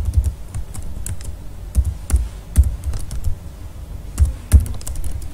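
Computer keyboard being typed on while entering commands for a Java programming lesson: irregular, close clicking keystrokes with a few heavier taps, steady throughout and free of speech.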